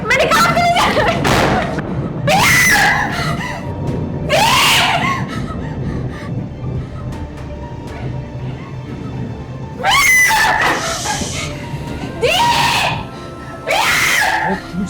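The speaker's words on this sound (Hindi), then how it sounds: "क्यों चिल्ला रही हो?" A woman screams in several loud, high bursts spread across a dramatic scene, set against a busy background with other voices talking.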